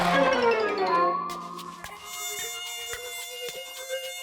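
A cartoon mosquito buzzes in a high, whining drone that bends in pitch, then gives way to sharp, clicky sound effects and bright tones.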